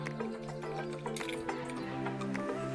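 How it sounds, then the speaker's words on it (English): Water trickles and drips steadily into a shallow seed-starting tray, with small splashes over a low background hum. "To fill a little bit with water."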